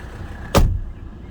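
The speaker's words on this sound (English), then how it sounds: "That is the traditional Mercedes thunk." A 1985 Mercedes 300SD door shuts with a single solid, deep thunk, loud and close. The impact is brief, with a short ring-out in a quiet setting and no talking.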